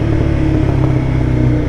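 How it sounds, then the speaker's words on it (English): A Honda CBR300R motorcycle engine, a 300cc bike, held at a steady high-revving drone with a dense, buzzy tone. The sound stays loud and close for the whole moment and carries no talk. "Let's get a little rev bomb."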